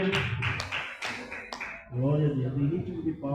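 Church congregation clapping hands in a steady rhythm, sharp claps for the first two seconds, then singing voices take over while clapping continues faintly underneath.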